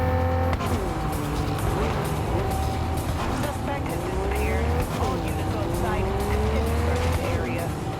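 Cars driving in the video game Cyberpunk 2077 with overhauled vehicle audio: a steady engine drone with rising and falling revving, tire squeals and passing vehicles, loud and continuous throughout, with a voice talking over it.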